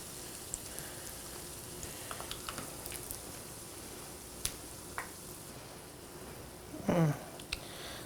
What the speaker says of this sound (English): all we need to basically do is to brown up and fry the wonton or the egg roll wrappers